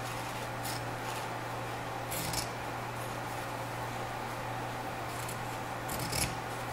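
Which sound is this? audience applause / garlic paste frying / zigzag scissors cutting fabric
zigzag scissors cutting fabric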